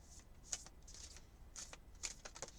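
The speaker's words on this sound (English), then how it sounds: "let's just shuffle these cards a little bit" A Legend of Sleepy Hollow tarot deck is shuffled by hand in short, quiet bursts of riffling card flutter with brief pauses between, close and soft against a faint room hush.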